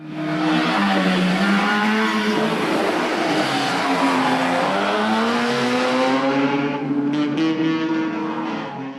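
An AI-generated car engine roars steadily as it approaches and passes, pitch sliding with revving, with a few sharp exhaust pops crackling near the end.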